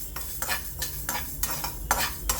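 Tomato pickle ingredients sizzle in a pan while a spatula scrapes and stirs in repeated strokes, roughly six or seven rhythmic swipes over constant frying hiss, close up and without talk.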